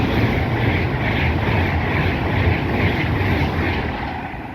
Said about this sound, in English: we have a Pendolino here going from Manchester to London